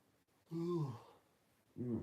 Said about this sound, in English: yawning so much.